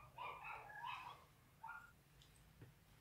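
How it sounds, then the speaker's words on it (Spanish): Dogs bark out on a street some distance away, two faint bursts of yapping barks with a short pause between them and no talking. "Se escuchan los perritos en la calle."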